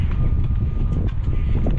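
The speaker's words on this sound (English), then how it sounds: "I've got a bit of wind over here." Wind buffets a microphone outdoors near a set of logs, producing a steady, loud low rumble that covers the whole stretch with no pauses.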